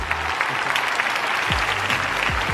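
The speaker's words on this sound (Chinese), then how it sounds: "我们掌声鼓励一下好不好？" Audience applause at a live promotional event for Huawei, a steady wash of clapping from a crowd running throughout with some low rumbling underneath and a few brief thumps near the end.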